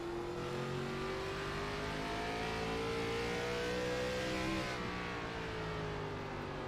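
Onboard race car engine of Jeffrey Souza's number 4 at Irwindale Speedway, a loud steady drone rising in pitch as it accelerates, then a brief dip before holding again.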